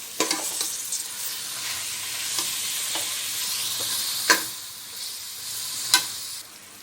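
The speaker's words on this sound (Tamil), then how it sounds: "நல்லா வதக்கிக்கலாம்" Food, including mint, sizzles steadily in a hot pan while a spoon scrapes and knocks against the metal, with a few sharper clanks as it's stirred, while cooking Karaikudi dum biryani.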